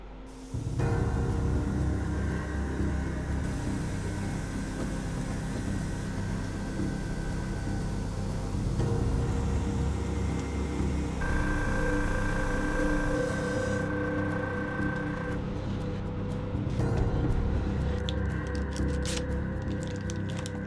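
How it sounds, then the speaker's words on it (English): An airbrush sprays brown paint onto a Mandalorian art toy, a continuous close hiss that holds steady for about twenty seconds with slight shifts in tone. "Let's fire up the airbrush and add that brown that I mixed up."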